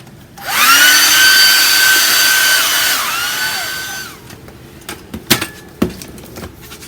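A handheld dryer blows on an acrylic floral painting, whirring loudly for about three seconds and then winding down, followed by a few light knocks and clicks.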